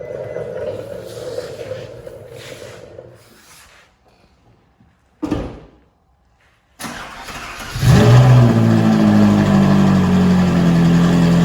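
A Ferrari 458 V8 engine fires up with a sharp burst, then settles into a loud, rumbling idle close by after a few quieter moments.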